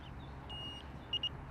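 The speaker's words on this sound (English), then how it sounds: "Down here on the lower front side is a single button that you push, and it beeps its way into life," A CaddyTrek R2 electric golf caddy beeps as it powers on: one sustained electronic tone followed by two short beeps, quiet and close over low background noise.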